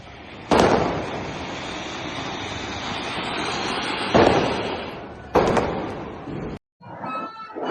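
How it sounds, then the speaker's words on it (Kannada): Deepavali firecrackers go off outdoors in three loud, sharp bursts, each trailing into a long hissing roar before sudden quiet. "ಇವಾಗ ಪಟಾಕಿ ಹೊಡಿಕೆ ಬಂದಿದ್ದೀನಿ ಗೈಸ್"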